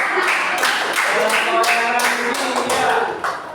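Classroom students clapping for a group, a series of rhythmic claps in a roughly regular beat, near and fairly loud, with some voices mixed in.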